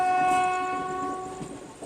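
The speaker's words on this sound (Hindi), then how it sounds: "बट अपनी ट्रेन का डिपार्चर हो गया है।" Passenger train on the Kathgodam–Howrah Bagh Express route pulling out after a short halt, its loud horn holding a steady tone over rumbling rail noise heard close by.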